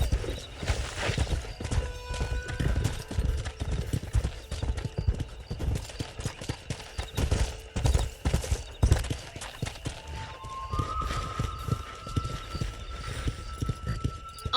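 Horse hooves clip-clop and gallop steadily in the Western video game Red Dead Redemption, a close rhythmic clatter that runs throughout, with a whinny and game music tones layered over it.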